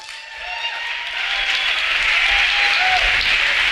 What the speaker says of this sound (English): give us a warm round of applause for Benny